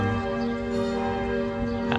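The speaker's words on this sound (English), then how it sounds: "I've seen at least 2 big churches already, and I think the bells are coming from at least 3." Bells from several nearby churches ring at once, their sustained overlapping tones droning steadily at a moderate distance.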